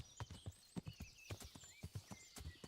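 Rhythmic clip-clop of horse hooves trotting at a steady pace in the video game Kingdom Come: Deliverance, fairly close, with a faint high electronic tone running beneath.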